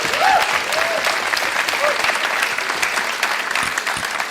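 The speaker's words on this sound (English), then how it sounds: "let's give her a round of applause" Applause from a small audience greeting a woman invited up at a gathering, steady and moderately close, with scattered cheers or voices mixed in.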